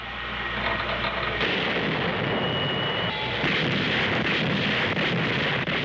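Warship main battery guns firing salvos, a heavy continuous roar of booming blasts and rumble filling the whole stretch, loud and dense without any voices.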